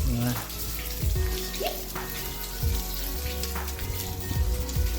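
Heavy rain falls outdoors as a steady, dense hiss of drops that runs through the whole stretch, with a few sharper spatters. A voice and other indoor sounds come through over it.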